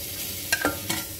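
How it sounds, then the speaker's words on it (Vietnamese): Onion is stir-fried in a pan: a soft sizzle under two quick, close scraping strokes of a utensil in about a second. "xào cho củ hành nó thơm"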